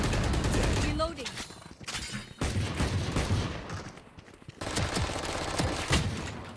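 Rapid gunfire in the video game Valorant, loud dense bursts of shots filling most of the stretch with brief pauses, heavy and close, with game effects layered in.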